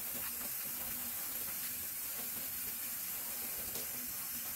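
Running water rinses shampoo out of natural 4C hair, a steady close hiss of spray and splashing that stays constant for the whole stretch without speech.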